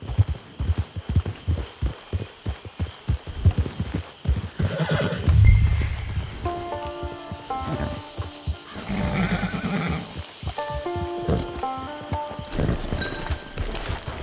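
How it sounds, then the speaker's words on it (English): Horse in the video game Red Dead Online, a clear close whinny among steady clip-clop of hooves, with game music faintly underneath. "Get your horse."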